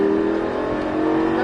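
Lamborghini LP560 V10 accelerating on a race circuit at Folembray, heard from inside as a loud, steady engine drone with sustained harmonic tones and no talking.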